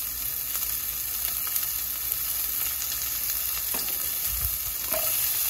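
Chopped onion and garlic sizzling in hot oil with nigella seeds, a steady close frying hiss with a few light stirring scrapes and clinks, and no talking.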